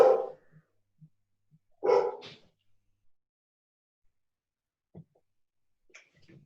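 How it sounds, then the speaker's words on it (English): A dog barks sharply at someone at the door, two loud bursts a couple of seconds apart and then a few quieter yelps and whimpers in an otherwise quiet room. "if somebody comes near the door or to the door, the dog just goes mental"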